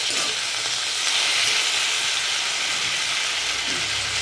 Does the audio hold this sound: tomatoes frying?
yes